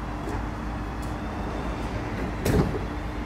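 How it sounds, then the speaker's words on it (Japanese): A conductor bangs on a stuck door of a night train in winter in Swedish Arctic Lapland, giving three separate knocks, with the last one the loudest, over a steady background hum. "で、結局最後は叩くんですね。"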